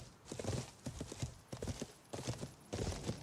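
A courier horse in the Life is Feudal game clip-clops along in quick, even hoofbeats that come in bursts with short pauses. The hooves sound close and clear, with no talk.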